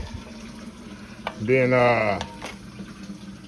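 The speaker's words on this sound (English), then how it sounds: "A little bit more water in here, y'all." Water is poured into turkey stuffing made with sage, cornbread and meat: a short rising pour lasting under a second over kitchen background, with someone talking around it.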